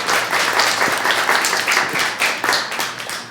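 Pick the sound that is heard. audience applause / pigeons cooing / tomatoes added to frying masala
audience applause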